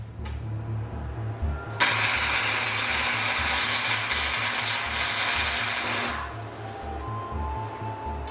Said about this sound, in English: Turn the welder on.